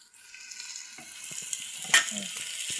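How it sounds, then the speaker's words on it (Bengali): Onions fry in hot oil with bay leaves for a beef curry, a close, continuous sizzle with a few stirring scrapes and one sharper spit partway through. "একটু পেঁয়াজটা লাল লাল করে ভেজে নিব"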